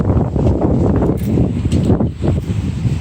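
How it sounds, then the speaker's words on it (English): Gusty wind buffeting at a beach, a loud, rough close-up roar that swells and dips without pause. "The wind just blew up"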